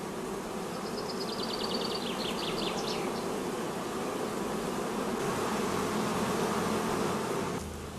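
Honey bees buzz in a dense, continuous drone over brood combs of sealed brood and honey in a queenless colony, with a few brief higher chirps near the start and a slight shift in tone near the end.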